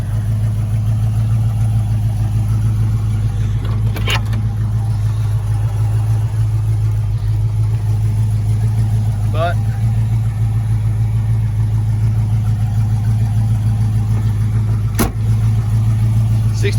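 A 1969 Ford Mustang Mach 1 with its original 351 V8 idles steadily and close by, a deep, even rumble that holds through the whole stretch, broken only by a few brief clicks.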